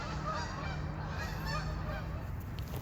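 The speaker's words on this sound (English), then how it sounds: "Ton of geese." Many geese honk at once on a disc golf course in a constant, overlapping chorus, loud and unbroken throughout.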